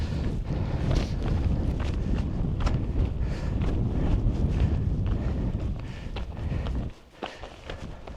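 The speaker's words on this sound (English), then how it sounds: "it's a little bit blustery now on this side" Gusty wind buffets the microphone on the exposed Striding Edge ridge up Helvellyn, a loud, rumbling low roar that swells and eases, dropping off sharply near the end, with faint crunching steps underneath.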